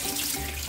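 Tap water runs steadily into a bathroom sink during a morning face wash, a continuous close hiss and splash filling the whole short moment with no voices.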